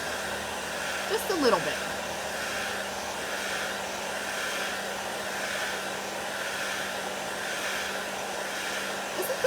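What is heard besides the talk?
heat tool drying chalk paste on a craft project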